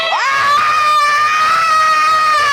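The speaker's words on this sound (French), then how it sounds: "Ok, arrêtez de crier." A single loud, sustained high-pitched scream from close by, rising sharply and holding steady for about two seconds before breaking off.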